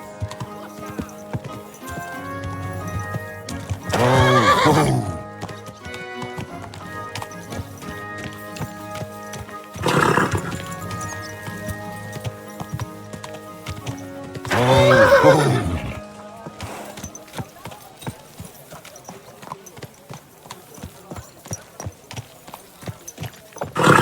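A horse in Kingdom Come Deliverance II whinnies three times at intervals, loud and close, while hooves clip-clop steadily beneath, with a low musical bed running throughout.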